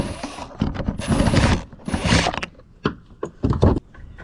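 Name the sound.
removing a screw from Audi A4 trunk handle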